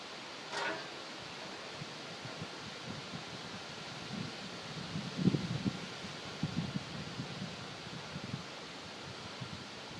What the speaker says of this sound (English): now it's just really windy outside.